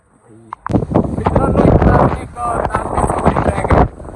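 Strong wind buffets the microphone on the Kalsubai trek in rainy weather, loud rumbling gusts nearly continuous, with voices talking underneath.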